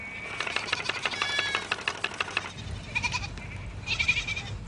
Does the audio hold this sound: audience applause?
no